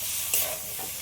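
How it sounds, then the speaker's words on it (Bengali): Fried potato and green banana pieces are stirred back into a spiced masala, giving a brief spatula scrape over a close, continuous sizzle of hot oil. "এবারে আমি ভেজে রাখা আলু আর কলা দিয়ে দিচ্ছি। সবগুলো একসাথে আবার একটু কষে নেব।"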